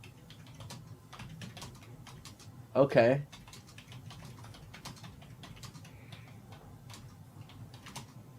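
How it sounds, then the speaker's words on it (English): Rapid, aggressive typing on a computer keyboard gives faint, quick clicks throughout, with a single short spoken word partway through. "The aggressive typing."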